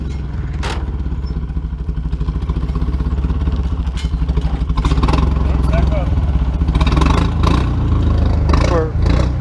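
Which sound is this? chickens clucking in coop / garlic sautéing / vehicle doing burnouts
vehicle doing burnouts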